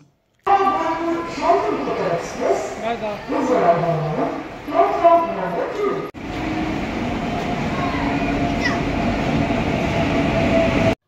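Shantiniketan Express train running out of Bardhaman station toward Guskara: a voice talks for the first few seconds, then a steady, loud rolling rumble of the moving train fills the rest of the clip.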